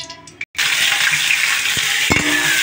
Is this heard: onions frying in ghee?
yes